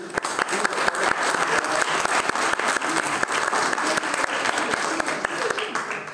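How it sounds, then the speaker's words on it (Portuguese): An audience greets Hugo with sustained applause, a dense, even roar of many clapping hands with crisp individual claps standing out, a faint murmur of voices underneath throughout. "peço uma salva de palmas para receber o Hugo"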